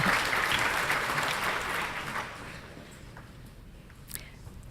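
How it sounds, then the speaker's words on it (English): An audience at a spring 2018 honors graduate recognition ceremony applauds steadily, and the clapping thins and fades out into near quiet over a few seconds. "so applaud away."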